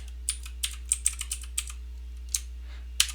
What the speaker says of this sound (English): But I type in indirect